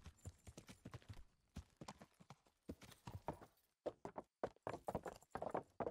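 Rhythmic clip-clop of horse hooves at a steady riding pace in the game Kingdom Come, sharp and clear, continuing without pause.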